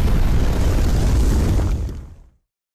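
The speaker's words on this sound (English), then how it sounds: "Gangplank signals his ship to shoot cannons at any area he pleases" Cannon fire from a pirate ship in the video game League of Legends, a loud, dense rumbling burst of explosions that holds for nearly two seconds, then dies away into silence.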